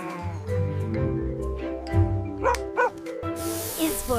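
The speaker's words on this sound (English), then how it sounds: "H is for Highland cattle dog." A Highland cattle dog barking and yipping in short bursts, close and fairly loud, with some higher whining tones mixed in.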